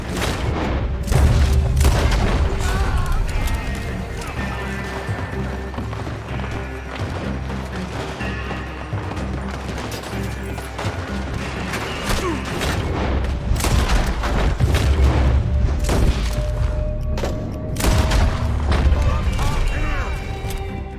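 Gunfire and booming explosions fill a Red Dead Redemption 2 shootout, a loud, dense barrage of shots, blasts and crashes that keeps going throughout, with game voices shouting over the combat.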